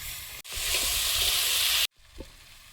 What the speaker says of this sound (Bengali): টমেটোটা হাফ ভাজা ভাজা হয়েছে